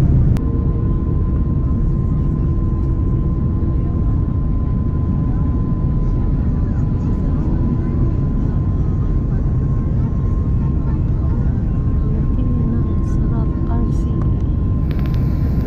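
Airliner cabin on landing approach into Manila, a steady loud low-frequency engine and airflow roar with a faint constant tone, continuous throughout with no talk.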